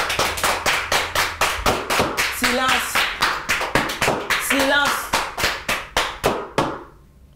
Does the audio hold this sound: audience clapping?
yes